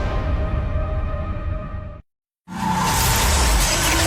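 A struggling car engine grinds and rumbles under a noisy whoosh in a gasoline advertisement, cutting to a brief silence before a louder, harsher burst of engine noise returns.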